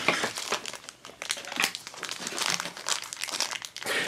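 Plastic Wacky Packages Minis Series 2 blind bag packaging is handled and opened up close, with continuous sharp crinkling and crackling in irregular bursts and a few tearing rustles, with no voice.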